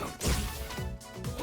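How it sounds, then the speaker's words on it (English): A glass-shattering effect in the fighting game Ultra Street Fighter 4 bursts out as a short crashing smash with a brief whooshing tail, loud and close, followed by more impact noise. "He breaks glass on like everything."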